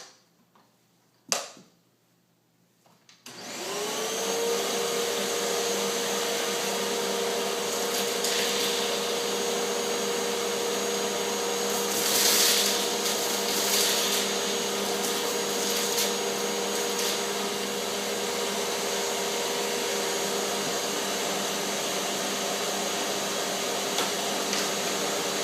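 A Hoover Windtunnel T-Series vacuum cleaner switches on after a couple of quiet knocks and runs on its highest setting, a loud, steady motor whine with a sustained pitch and occasional rattling bursts of debris being sucked up.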